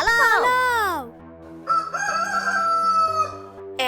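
A rooster crows in a cartoon, loud and close, the first call sweeping and falling, then a longer wavering crow after a brief pause.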